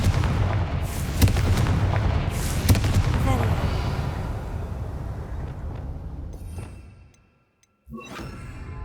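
Spell blasts from Hogwarts Legacy as a Confringo fire spell is cast, a run of heavy booming explosions and whooshes that fade, a brief silence, then another sharp burst.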